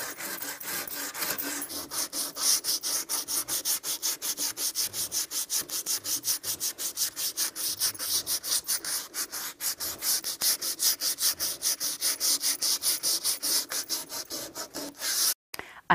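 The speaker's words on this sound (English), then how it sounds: "I have finished distressing the table." Wooden table coated in chalk paint sanded by hand to distress it, a loud close rhythmic rasp of rapid back-and-forth strokes repeating steadily for over ten seconds, with no voices.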